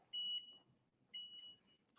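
A Hotronix heat press timer gives two short electronic beeps about a second apart, clear and fairly close in an otherwise quiet room.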